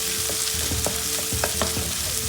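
Curry leaves roast in hot oil in a pan for aval (flattened rice) upma. A crackling sizzle sits under repeated scraping strokes of a spatula, close and fairly loud, with rhythmic stirring clatter throughout.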